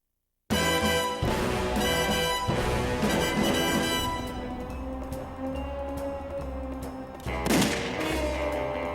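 The gun barrel opening of the From Russia With Love video game: a loud gunshot and musical stings over a sustained orchestral theme, playing alone without talk.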